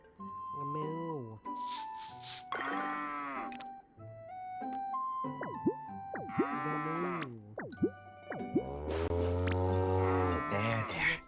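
A buffalo in the Story of Seasons Grand Bazaar farming video game moos several times, long drawn-out calls close and clear, with a few short synthetic game sounds in between.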